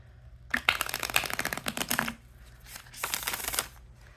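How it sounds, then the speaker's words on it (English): A thin, matte collage tarot deck is riffle-shuffled up close, two bursts of rapid flapping, slapping card noise with a short pause between them. "I don't always shuffle on camera, but I kind of have to show you with this one"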